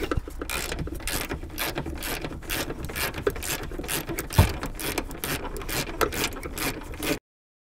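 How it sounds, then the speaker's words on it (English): A socket wrench ratchets rapidly and steadily, removing a seat belt bolt on a Honda Civic: dense, close clicking for about seven seconds, then it stops. "Now we can take our size 14 socket"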